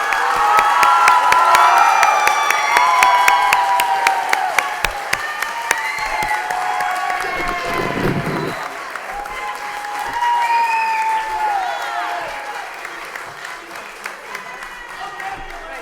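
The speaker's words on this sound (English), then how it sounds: "I'd like everyone to receive a round of applause from the audience" Audience applause with cheering for summer reading representatives at a Lowell School Committee meeting, loud and sustained across the whole stretch, with scattered whoops and children's voices mixed into the clapping.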